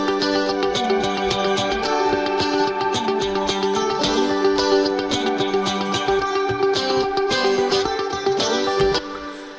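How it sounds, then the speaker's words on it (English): Newly recorded layered guitars play a busy, rhythmic pop part in a dense, steady strummed pattern with clear sustained notes, ending in a sudden drop near the close. "And then we recorded some new guitars for this part,"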